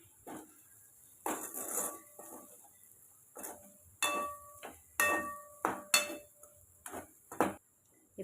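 A spoon scrapes and clinks against a pan while chilli flakes are stirred into soya chukka, a string of sharp, uneven metallic taps and strokes, close and fairly quiet, with no talk.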